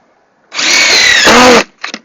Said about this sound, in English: take your drill and push in until you hear it, until it stops